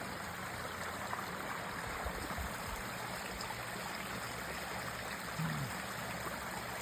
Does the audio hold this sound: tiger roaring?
no